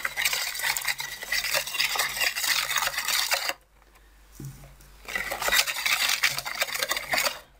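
Eggs, sugar and oil whisked together in a bowl make rapid, continuous close clattering strokes, stopping for about a second and a half before the brisk whisking resumes.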